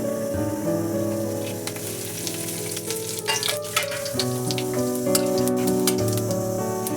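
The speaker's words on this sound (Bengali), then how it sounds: "এবার আমি এর মধ্যে একটু সাদা জিরে তেজপাতা আর শুকনো লঙ্কা ফোড়ন দিচ্ছি" Whole cumin, bay leaf and dried chilli crackle and sizzle in hot mustard oil, a steady close frying hiss with scattered sharp pops, with no voices over it.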